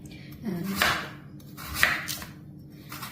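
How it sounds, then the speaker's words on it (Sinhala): A kitchen knife chops through peeled purple sweet potato on a board, giving two distinct, crisp cuts about a second apart against a quiet background. "මම දැන් මේ බතල ටික කපන්න තමයි යන්නේ"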